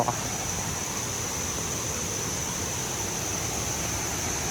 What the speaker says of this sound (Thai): นี่ไงถึงแล้วน้ำตกอลาโอ